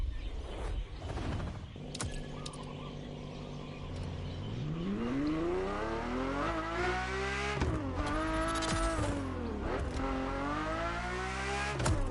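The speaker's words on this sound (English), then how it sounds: "This was the F50, a sports car that screams performance and racing spirit with every fiber of its being." Ferrari F50 sports car engine in The Crew Motorfest, shrill and loud as it revs and climbs through gears with rising and falling pitch sweeps, close and unbroken.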